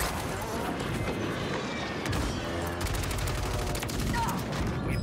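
Dense, relentless gunfire in the video game Fortnite, rapid shots blurring into a loud continuous barrage with sharper cracks throughout.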